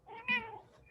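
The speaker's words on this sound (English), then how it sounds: "Sorry, my cat is yelling if you can hear her." A pet cat lets out one loud, drawn-out meow, close by and clear, in a quiet indoor room during a post-game press conference.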